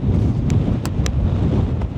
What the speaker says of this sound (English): Quite windy now.